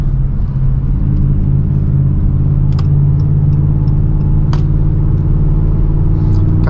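A Dodge Charger R/T cruising on a highway, a steady loud engine and road drone heard from inside the cabin, with a few faint clicks.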